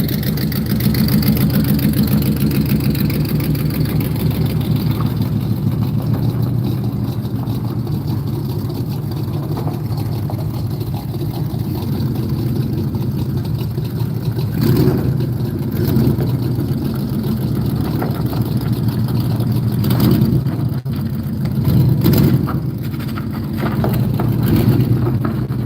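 A car engine fitted with new exhausts rumbles at a loud, deep idle, then swells in several revving surges, the low drone holding throughout.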